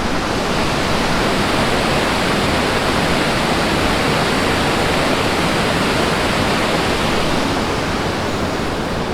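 Clean mountain water on the Vaishno Devi pilgrimage route rushes loudly and steadily, a dense, unbroken roar of flowing water close by, with no voices.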